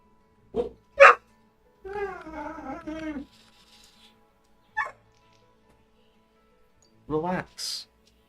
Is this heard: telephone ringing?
no